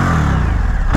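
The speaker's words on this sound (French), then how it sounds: "c'est vraiment le bruit d'un bicylindre" A 2022 Indian FTR1200 twin-cylinder motorcycle engine revving loud and close, a dense, throaty drone held steady for a moment without any voices.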